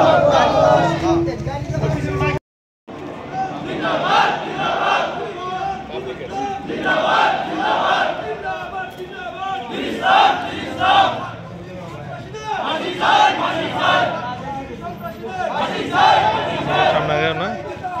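A crowd of Islamic clerics and scholars marching in protest in Naria chants slogans loudly in a steady call-and-response rhythm, repeating every couple of seconds after a brief pause near the start.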